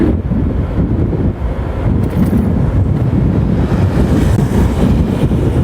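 Strong wind buffets the microphone of a motorcyclist in cold, rainy weather, a continuous low roar, loud and close, with no one speaking.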